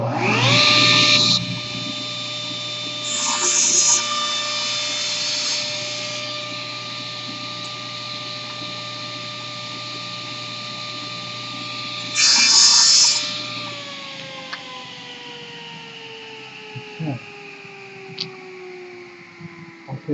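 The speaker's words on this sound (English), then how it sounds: "split that right there on the table saw" A table saw whines at a steady pitch, bogging louder in a few harsh cutting bursts as it splits a pen blank in half, then winds down with a falling tone as it spins to a stop.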